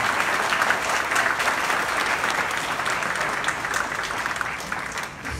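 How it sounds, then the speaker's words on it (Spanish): A crowd at a university graduation ceremony gives warm, sustained applause for the class's godfather, a psychologist. The clapping is loud and continuous and fades slightly at the very end. "Brindémosles un aplauso afectuoso."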